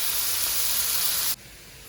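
Chopped leeks hit a hot pan and sizzle with a steady, bright hiss that holds for over a second before cutting off abruptly to a quieter background.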